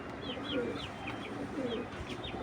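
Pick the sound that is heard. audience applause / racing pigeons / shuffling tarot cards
racing pigeons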